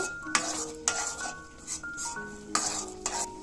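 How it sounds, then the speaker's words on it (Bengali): Rice flour being stirred into mung dal in a bowl for mung puli: a spoon scrapes and clinks against the bowl in a steady rhythm, with sharp taps every half second or so. The sounds are close, and there is no talk. "তো চালের গুঁড়োটা দিয়ে আমি খুব সুন্দর করে মিশিয়ে নেব।"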